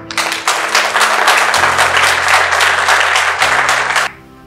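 Audience applause at the close of a graduation closing speech for a 55th promotion class, a dense sustained wash of many hands clapping for about four seconds before stopping abruptly, with no talk over it.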